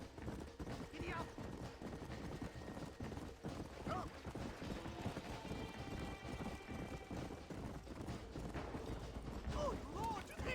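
A horse gallops in Red Dead Redemption, its fast, rapid hoofbeats running continuously for about ten seconds at moderate loudness, mixed with background game sounds and a few brief vocal bits.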